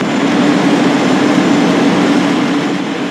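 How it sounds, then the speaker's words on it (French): Twin 1000-horsepower engines drive a 40-tonne gendarmerie patrol boat at over 25 knots, giving a loud, steady, unbroken roar with a strong low hum that holds evenly throughout. "Deux puissants moteurs de 1000 chevaux déplacent les 40 tonnes à une vitesse constante de plus de 25 nœuds."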